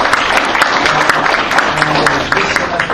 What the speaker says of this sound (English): everybody here deserves a big round of applause.